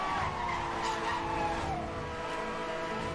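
Tires squealing as a car drifts through a corner in the racing game Need for Speed Hot Pursuit, a continuous loud screech over a steady engine roar.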